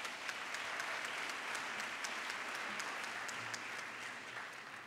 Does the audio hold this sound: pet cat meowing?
no